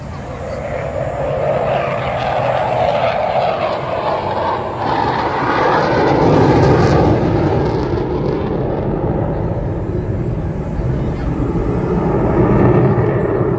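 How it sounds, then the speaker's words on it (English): A CF-18 Hornet jet makes a topside pass at the Canadian International Air Show, a loud, broad roar that swells toward the middle, eases, then builds again, with crowd and wind noise underneath. "here's another topside pass by your CF-18 Hornet from the right"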